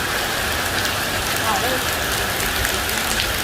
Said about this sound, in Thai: ก็มีฝนตกลงมานะคะ